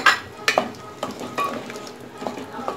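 Chickpeas and potatoes hit a hot spiced pan while cooking chana batata, giving a steady sizzle broken by repeated sharp spoon-stirring scrapes and clatters, close and moderately loud.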